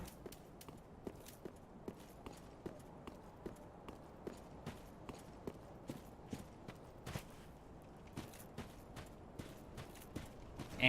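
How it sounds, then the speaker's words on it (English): Armored footsteps crunching on snow in Dark Souls III, a steady run of soft, close thuds and clanks at a walking rhythm over a low ambient game background. "you can hear the difference in your footsteps, depending on your armor, depending on what you're standing on"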